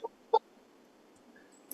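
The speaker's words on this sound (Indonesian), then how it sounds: "Ayam." A chicken clucking: two short, faint clucks near the start over quiet background hiss, with another brief sound at the end.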